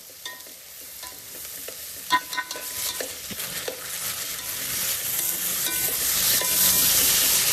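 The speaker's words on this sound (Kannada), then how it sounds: "ಜಿಂಜರ್ ಗಾರ್ಲಿಕ್ ಪೇಸ್ಟ್, ಹಾಕಿ ಹಸಿ ವಾಸನೆ ಹೋಗೋ ತನಕ ಫ್ರೈ ಮಾಡ್ಕೊಳ್ಳಿ" Ginger garlic paste frying in an oiled pan, a steady close sizzle that builds slightly louder over time, broken by the scrape and clatter of a spoon stirring, with no talking.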